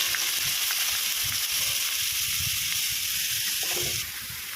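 Thinly cut bottle gourd hits hot oil with crushed ginger in a pan, giving a loud, steady, close sizzle and hiss that holds throughout and eases slightly near the end.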